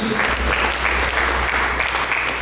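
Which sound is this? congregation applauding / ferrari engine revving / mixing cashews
congregation applauding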